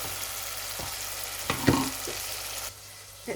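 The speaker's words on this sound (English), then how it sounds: "Looking really, really good. Sizzling away." Sweet potato and egg curry sizzles steadily in a pan, with a few louder stirring bursts and scrapes partway through before the frying drops off near the end.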